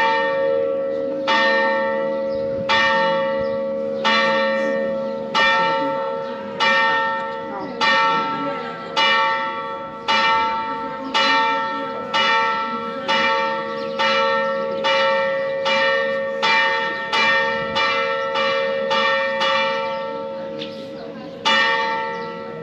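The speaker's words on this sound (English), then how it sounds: "I reckon that bell ringer's on ecstasy, you know." A church bell in Portugal rings out loud and close in a fast, steady series of about twenty strikes, each long metallic tone overlapping the last, with no voices over it.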